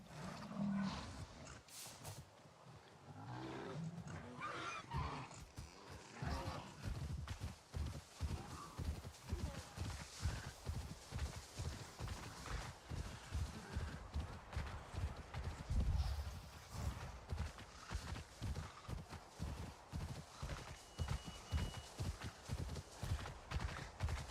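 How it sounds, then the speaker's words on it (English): Steady clip-clopping hooves of a large dire horse walking, with low roaring and rumbling calls over a busy, layered soundscape in the video game Avatar: Frontiers of Pandora. "Alright, we found another dire horse."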